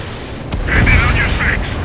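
In the Ace Combat 7 flight combat game, a target blows up with a deep, rumbling boom. Radio chatter plays over the explosion.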